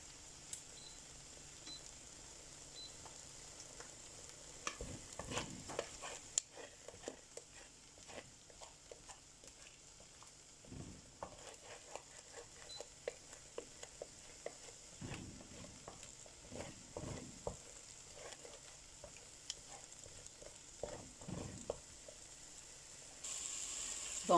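Eggs and onions are stirred in a pan until cooked, giving soft scraping strokes at an irregular pace over a faint, steady background, with occasional louder scrapes and no talking.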